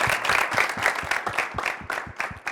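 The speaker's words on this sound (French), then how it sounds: "On applaudit Olivier." A studio audience at a French youth debate show applauds the debate moderator, a steady burst of clapping from many hands, fairly close and loud, lasting a couple of seconds with no voices over it.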